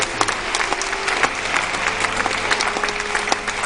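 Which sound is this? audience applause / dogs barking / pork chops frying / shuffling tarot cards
audience applause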